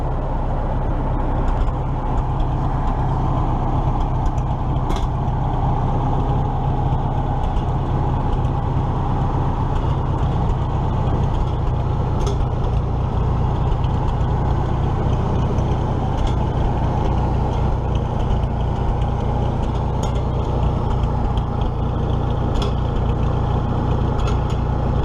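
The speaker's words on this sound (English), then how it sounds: "that Super M sure runs smooth" A Farmall Super M tractor engine runs steadily and loud at close range, a smooth continuous rumble with faint ticking throughout and no talking.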